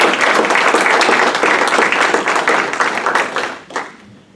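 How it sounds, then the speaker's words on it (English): A forum audience applauds election candidates with loud, dense clapping that holds steady before tapering off near the end. "can we give the candidates a round of applause?"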